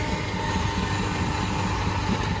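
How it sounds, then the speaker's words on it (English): A steam tractor at a threshers' reunion drives a giant belt that spins a log mill, a loud, steady mechanical rumble with a constant hum and no breaks. "So they use this steam tractor"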